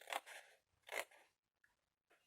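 Scissors snip through folded paper in two quick bursts close by, then a couple of faint clicks, while cutting a paper advent-calendar model of Big Ben.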